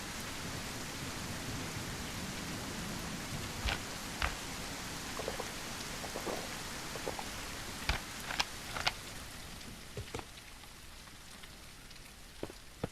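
Steady rain pours down with scattered sharp drips and taps, a faint rumble underneath; no voices. Sound from the video game Mist Survival.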